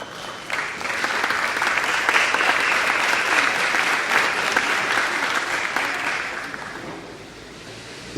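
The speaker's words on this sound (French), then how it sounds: "Je pourrais encore une fois de plus faire un tonnerre d'applaudissements pour Arnaud." A crowd at a cultural evening event claps for Arnaud, with dense sustained applause that swells quickly, holds steady for several seconds, then thins out toward the end.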